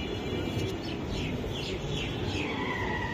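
Pakistani pigeons in a loft, with soft cooing and scattered chirps over a steady, noisy background hum.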